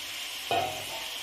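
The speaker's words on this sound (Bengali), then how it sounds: "এবার আমি এই ভেজে রাখা সবজিগুলো এর মধ্যে দিয়ে দেব।" Fried vegetables tipped into a hot pan for shukto bring a brief scrape and a louder sizzle over a steady background of frying.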